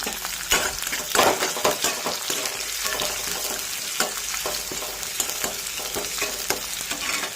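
Mustard seeds frying in hot oil in a cast-iron kadai on a home stove, a close, steady crackling sizzle with sharp pops and stirring scrapes throughout, no talk.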